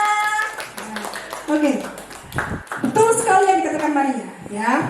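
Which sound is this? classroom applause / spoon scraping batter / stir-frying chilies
classroom applause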